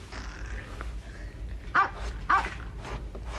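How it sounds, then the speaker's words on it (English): A dog barks in the distance, two sharper yelps rising above a low, steady background hum, with fainter noises between them. "It sounded like a dog barking."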